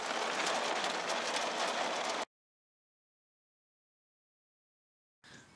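Steady, dense rain from a thunderstorm patters loudly for about two seconds, then cuts to silence before the rain noise briefly returns at the end.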